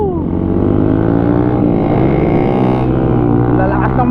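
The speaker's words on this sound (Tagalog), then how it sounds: "Lalakas ng mga motor nila." Loud motorcycles, among them a Kawasaki Ninja 1000cc, revving together on a group ride, a dense, steady engine drone with layered harmonic tones held close and loud throughout.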